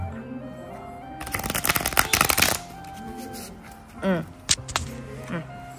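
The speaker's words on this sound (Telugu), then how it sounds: "మామూలు చేత్తోనే అట్ట ఇట్ట షఫుల్ చేస్తా" A deck of playing cards is shuffled by hand in a loud, close, fluttering riffle lasting over a second, followed by quieter handling and people talking.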